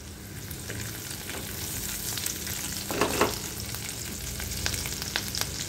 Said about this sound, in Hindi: इसके अंदर देखिए लंबी कटी हुई हरी मिर्च डाल रहे हैं।